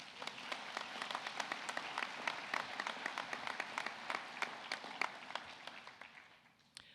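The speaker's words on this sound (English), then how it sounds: "Now you can applaud for them." Quiet, somewhat distant applause from a convocation audience at an optometry college for the association's president and trustees, with distinct individual claps standing out before fading at the end.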